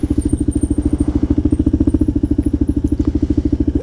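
A Kawasaki KLR650 single-cylinder motorcycle engine idling close by in New York City, a loud, steady, rapid thumping pulse with no talk over it.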